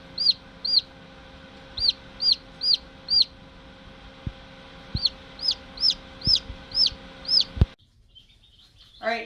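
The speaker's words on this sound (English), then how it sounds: "Day 21, we've got our first peeps." Newly hatched chicks peep inside an incubator in short, high repeated chirps, arriving in two quick runs of several calls each, close and clear over a faint steady hum, before cutting off.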